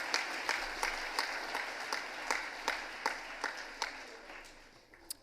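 Applause from a school audience at a fall athletic awards ceremony, fairly faint and distant, with sparse individual claps standing out and thinning toward the end.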